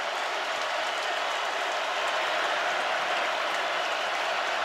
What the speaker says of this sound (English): Georgia crowd coming to life for their defense.